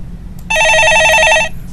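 A telephone rings loudly in a studio, one trilling electronic burst about a second long over a quiet background.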